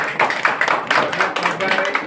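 An audience claps at an anganwadi school-entry function, with a burst of scattered clapping that runs continuously through the moment, close and fairly loud.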